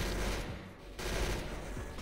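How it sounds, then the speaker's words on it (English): Dense, continuous automatic gunfire fills a Roblox Arsenal match, loud and sustained with rapid overlapping shots and little pause. "I had to shoot those windows."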